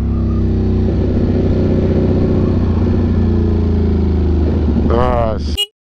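A Yamaha R1 motorcycle engine pulls hard on a highway in a loud, steady close drone, with harmonics stepping through gear changes, before a sharp burst near the end and sudden silence.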